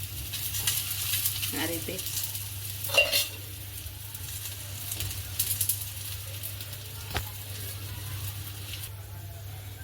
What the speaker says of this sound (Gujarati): થોડું થોડું ઘી એડ કરીને બંને બાજુ શેકી લઈશું